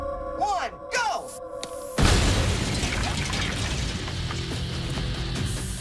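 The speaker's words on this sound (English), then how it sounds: "This is MacGyver, mail truck filled with cement and 84 pounds of dynamite." After a few seconds of voices and a countdown, 84 pounds of dynamite in a cement-filled mail truck explode suddenly and loudly, followed by a long rumbling, crackling roar of debris and wind that fills the rest.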